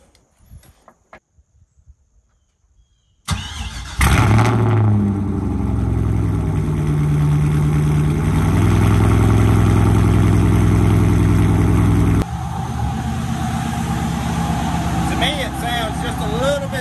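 A car engine fitted with a new exhaust Y pipe fires up close by, then runs with a loud, deep, steady drone that shifts in tone partway through, and voices are heard over it.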